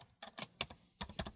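Light, quick taps on a laptop keyboard come in small irregular clusters, close and fairly quiet.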